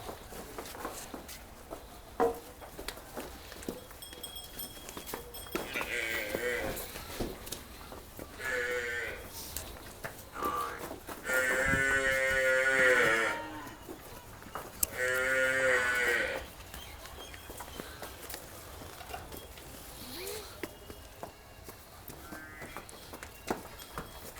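A water buffalo lows several times, long drawn-out moans rising over a quiet farmyard background, with the loudest calls in the middle and later portions and a few softer grunts between.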